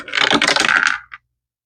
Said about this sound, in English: I'm going to roll the dice to see how many I will be stuffing next week